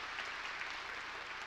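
A church congregation claps in unison, a dense and steady wash of applause that stays even and continuous for the whole moment.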